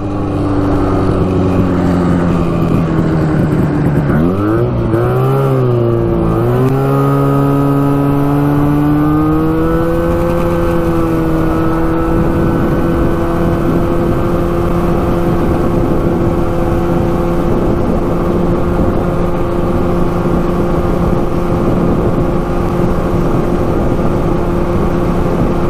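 A street legal 340cc two-stroke trike engine howls at top speed on a sunny highway stretch, its pitch dipping briefly then climbing and holding a steady, loud, buzzing drone close to the rider.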